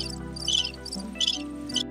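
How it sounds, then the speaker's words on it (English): Preset crickets sound effect from a Rode Connect pad: several bursts of high, rapid cricket chirping in a steady pulsing rhythm, played alone with a low constant hum underneath. "Crickets."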